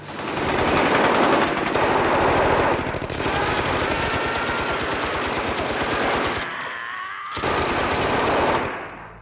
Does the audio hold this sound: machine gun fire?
yes